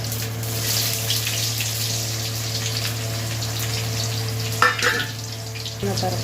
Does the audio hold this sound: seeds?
yes